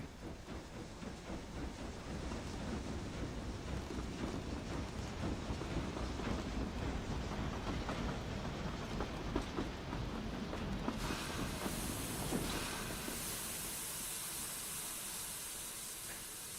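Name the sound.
train moving in the video game Book of Travels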